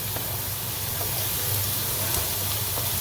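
Onions sizzle in a hot pan alongside meat for a Portuguese bitoque pan sauce, giving a steady, even hiss that runs unbroken from start to end at moderate loudness with no voices.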